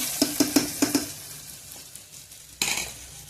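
Onions sautéing in a pan while being stirred, with several sharp scraping clatters of a utensil against the pan early on and a brief burst of sizzle near the end, fairly quiet and close.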